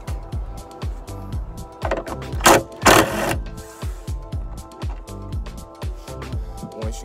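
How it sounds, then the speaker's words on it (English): A power driver with a T20 star bit backs light screws out on a Prostar truck visor, a rhythmic series of close, repeated whirring pulses with a couple of louder bursts partway through. "To take the screws out of the lights, you're gonna need a T20 star bit."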